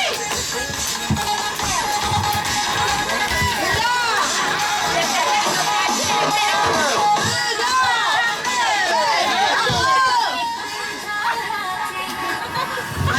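Participants at a family gathering game cheer and shout outdoors, a lively crowd with children's high-pitched yells and chatter layered continuously and loudly throughout.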